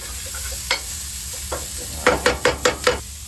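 Onion, garlic and fresh thyme stirred in a pot for a vegetable lasagna, with a soft sizzle underneath. Two isolated scrapes come first, then a quick run of five sharp, rhythmic spoon strokes against the pot.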